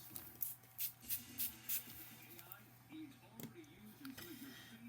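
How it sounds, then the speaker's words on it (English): A hand spray bottle mists water onto a rubber stamp for polymer clay work, five quick hissing spritzes in a row, close and crisp, followed by soft talking with faint handling noises. "I'm going to spray it with some water."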